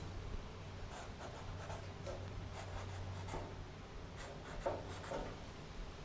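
A pen scratches short, faint marking strokes onto the inner wheel well of a body-dropped square-body truck, irregular squeaks and rubs heard up close over a low background hum.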